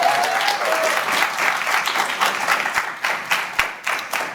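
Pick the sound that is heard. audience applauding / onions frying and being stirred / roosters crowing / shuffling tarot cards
audience applauding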